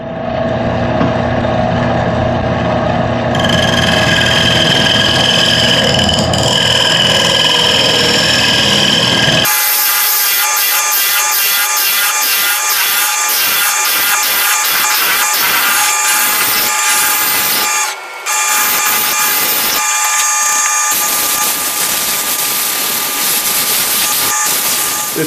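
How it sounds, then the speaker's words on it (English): Loud, continuous machine whine of a spinning lathe with sandpaper rasping against the outside of a turned wooden box, the tone shifting partway through and carrying on steadily without talk. "I'm going to start sanding."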